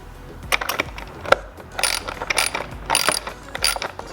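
A ratchet tightens a nut and bolt holding the carbon fiber front lip splitter on an F30 BMW M Sport: several close bursts of rapid clicking with short pauses between strokes, and nobody talking.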